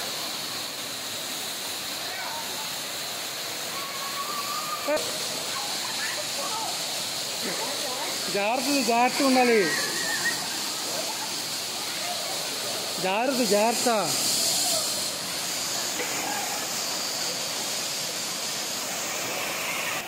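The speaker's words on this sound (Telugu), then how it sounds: "ఓవరాల్గా జలపాతం కింద జలకాలు ఆడుతూ ప్రకృతి ప్రేమికులు మైమరచిపోతున్నారు." Kothapalli Waterfalls roars as a steady, broad rush of falling water, with visitors playing beneath it; someone speaks briefly twice over the constant noise.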